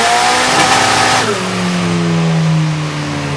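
A big block engine on a dyno screams at high revs, then breaks up at the top and drops to a lower, rough, steady rumble, loud and close, with no talking.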